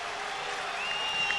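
Stadium crowd at a Hawaii Warriors versus Tulsa college football game roaring after an interception: a steady, broad wash of cheering and applause held at even loudness throughout, with no distinct voices standing out.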